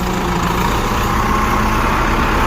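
A tractor engine runs loud and close in a steady, unbroken drone with a heavy low rumble and no pauses.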